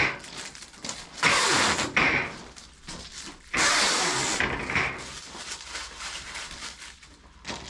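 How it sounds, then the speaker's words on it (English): Protective plastic film peeled off the painted side of a metal roofing cleat, giving two loud tearing rips with softer crinkling and handling noises between them, close by, no talking. "So now I'm gonna peel the protective layer on the cleat."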